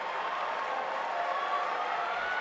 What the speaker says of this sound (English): Crowd trying to get into it to support Herman here.